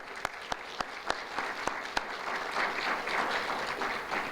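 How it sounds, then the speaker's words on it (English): Applause from an audience at a coding event, starting with a few scattered claps and building into steady, full clapping from a crowd. "round of applause to those that presented here"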